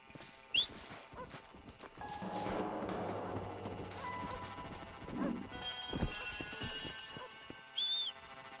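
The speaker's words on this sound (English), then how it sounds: "Bora, cavalo." Horse hooves clop in the Red Dead Redemption video game, with scattered hoof hits and movement amid game ambience, a whistle and faint other sounds.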